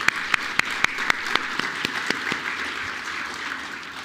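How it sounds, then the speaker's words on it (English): Audience applause for the sponsors at an economic development summit. A few sharp, distinct claps stand out near the front over a steady, moderate wash of clapping that slowly fades. "So if we could give an applause to our sponsors"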